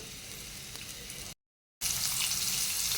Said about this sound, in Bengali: পেঁয়াজটা দিয়ে দিলাম, মেথি শাকটা ভেজে নেব।